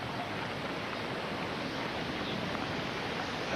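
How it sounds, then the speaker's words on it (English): Strong wind gusting across an outdoor professional women's tennis match at the 2000 Du Maurier Open, a steady, dense roar of broadband wind noise buffeting the microphone with no break. "the wind is really blowing up considerably now"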